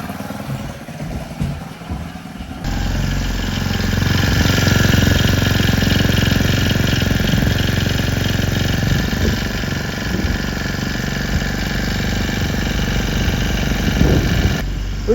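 A cold-blooded engine idles steadily while warming up, a loud continuous rumble after it starts about three seconds in, running evenly to the end.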